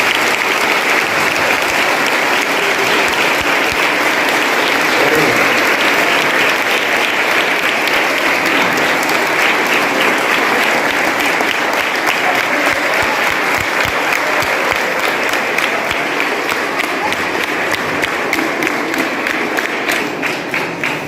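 Sustained, loud audience applause at a residential school anti-ragging guidance session, dense clapping from a large group that carries on steadily for the whole stretch with no talking over it.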